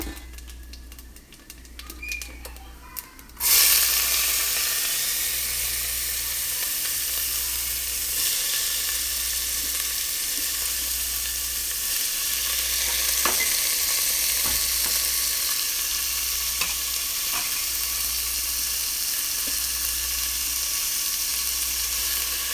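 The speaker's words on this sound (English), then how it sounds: "fry the onion till golden brown" Onion sizzles and crackles steadily in hot oil in a pan for a biryani, a constant bright frying hiss close by with occasional small pops, following a brief quieter moment at the start.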